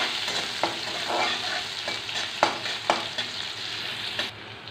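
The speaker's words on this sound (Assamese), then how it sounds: "এইবাৰ পিঁয়াজখিনি ভালদৰে ভজা হৈ গ'ল" Onions frying in oil in a pan, a close steady sizzle broken by several sharp spoon scrapes and knocks from stirring before it cuts off.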